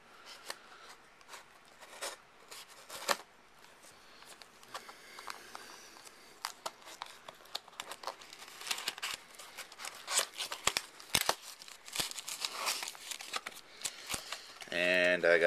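A Gerber Combat folder knife slices and scrapes through a present box's cardboard and tape, with scratchy, tearing strokes and faint rustling that grow louder and busier toward the end.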